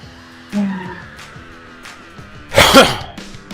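A single sudden burst like a sneeze, loud and close, rises out of a background of continuous murmur and tonal sounds from a video game.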